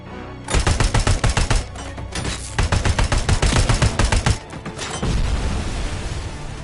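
Rapid bursts of automatic gunfire in the Robocop Rogue City video game, loud close volleys of evenly spaced shots broken by short pauses, then a rumbling tail with no talking.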